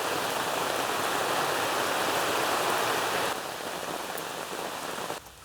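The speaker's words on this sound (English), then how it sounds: "It's still raining," Steady rain drums on the roof of a car during car camping at a hamfest in Monte Sano, Huntsville, a dense, even hiss that eases slightly partway through and drops again near the end.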